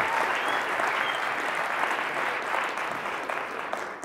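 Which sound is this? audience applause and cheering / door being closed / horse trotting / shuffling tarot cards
audience applause and cheering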